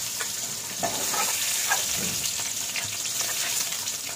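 Paneer pieces fry in hot mustard oil, a steady close-up sizzle with crackling pops and occasional stirring scrapes throughout.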